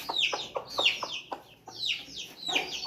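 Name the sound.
breeder hen clucking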